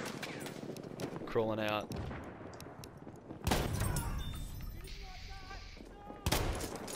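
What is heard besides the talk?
gunfire in a shooter video game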